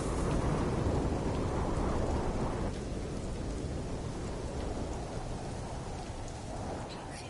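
A thunderstorm with heavy rain in the video game No Man's Sky: loud continuous downpour, with a rumbling roll of thunder that swells early and then slowly fades.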